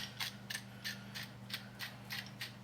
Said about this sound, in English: So Grind it relatively small if you have the option of choosing a grind for your pepper.